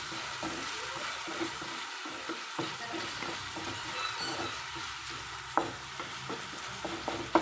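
Tomato and onion with a little salt fry in a pan, a steady close sizzle with occasional scraping stir strokes and small clicks, no voices over it.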